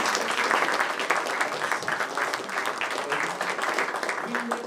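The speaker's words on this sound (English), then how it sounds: "So again, a round of applause for" An audience at a talk on analytics and AI in tourism breaks into steady, dense applause that fills the whole stretch at an even level, with a faint low tone surfacing briefly near the end.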